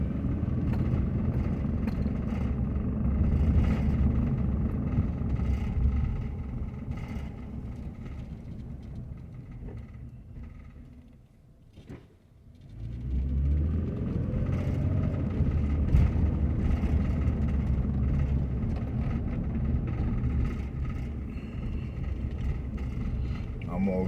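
Car driving along a residential street in Anderson, Indiana, with a steady low engine and road rumble throughout, some wind buffeting, and a brief dip around the middle before the drone returns at full strength.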